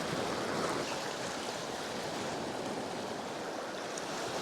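Sea waves wash over rocks on a grey, bleak shoreline, a steady broadband roar of surf and churning white water that holds loud and constant with no pauses.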